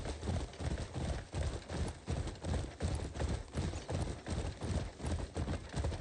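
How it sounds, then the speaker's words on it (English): Horse hooves galloping in a video game, a steady rapid clip-clop rhythm running throughout, fairly loud and close with no talking over it. "run for the horse to gallop or it stops moving"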